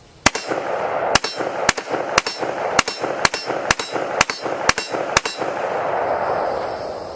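A rifle firing .223 rounds downrange at a shooting range: about ten sharp, loud reports in a fairly steady rhythm, each trailing into a short echo, with no talking.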